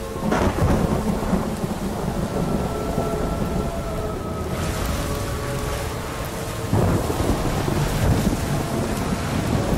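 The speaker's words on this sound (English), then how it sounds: "It's getting stormy." Thunderstorm in the Ori and the Will of the Wisps video game: steady heavy rain and wind with deep rolling thunder rumbles, loud and continuous, swelling again near the end, with no talking.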